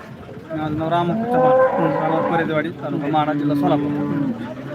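Cows at the Modnimb cattle market moo loudly and close by in long, drawn-out calls, with people talking in the background.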